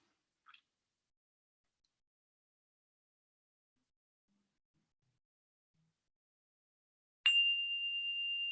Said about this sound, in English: I'm just going to sound the bell.